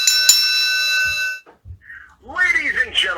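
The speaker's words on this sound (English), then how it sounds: "you'll hear the bell, and then you can start." A bell rings as the intro cue for a professional wrestling podcast: one struck tone with a long ringing decay lasting over a second, then brief noises and a voice starting to talk.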